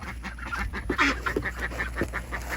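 Ducks released outdoors honk and quack in a busy, overlapping chorus, fairly close, over a low background rumble.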